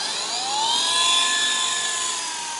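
A small battery-powered toy helicopter gives off a thin, high-pitched rotor whine that rises slightly and holds steady, heard close and alone with no talking.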